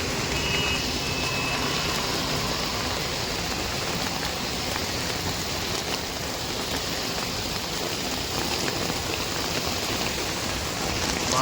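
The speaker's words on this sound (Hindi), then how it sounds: "देखो कितनी तेज बारिश हो रही है बाहर।" Heavy rain pours down outside a car parked on a main road in Jangpura, Delhi, a steady, dense roar of drops drumming the roof and windows without a break, close and loud throughout.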